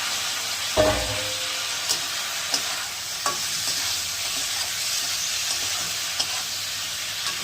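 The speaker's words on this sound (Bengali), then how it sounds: "আর একটু ভাজবো পেঁয়াজ দিয়ে রেখেছিলাম, দিয়ে দিলাম" Onions frying in a pan with dried red chillies for a spicy loitta fish curry, a steady close sizzle with sharp taps of a spoon stirring at intervals.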